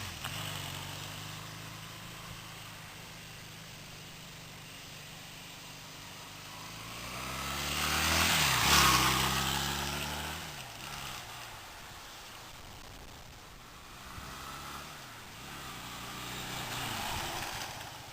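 A Honda CB250 Nighthawk motorcycle being ridden, its engine note rising and falling through gear changes, swelling loudest midway with rushing wind noise, then building again toward the end.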